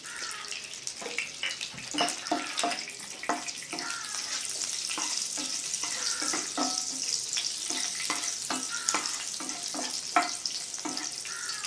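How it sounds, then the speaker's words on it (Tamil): Cashews frying in hot ghee, with a steady bright sizzle and crackle plus frequent stirring scrapes and clinks of a spoon against the pan, close up and continuous with no talking. "நெய் நல்லா சூடானதுக்கு அப்புறம் நம்ம இந்த முந்திரி பருப்பை போடுவோம்."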